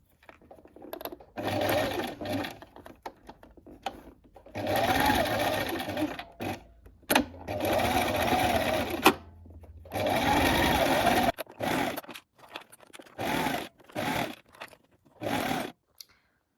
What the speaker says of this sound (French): je vais faire plusieurs points avant-arrière pour renforcer la couture